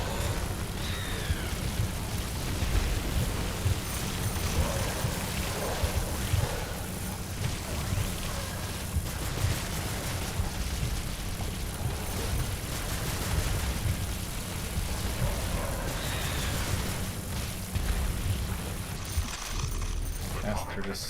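Hostile creatures spraying lightning in The Riftbreaker video game, a dense, continuous crackling and rumbling roar that stays loud and steady throughout.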